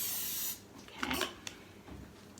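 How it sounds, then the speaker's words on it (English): A short hiss of cooking spray onto a 13 by 9 inch cake pan at the start, followed by light rubbing and scraping sounds, close by with no talking. "So I'm going to give it a spray."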